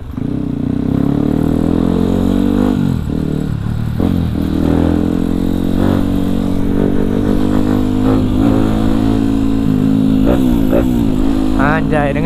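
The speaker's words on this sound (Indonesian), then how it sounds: "Ini emang motor pelan." A motorcycle engine runs steadily and loudly throughout, with rising and falling revs as it rides, and a few quick throttle blips near the end.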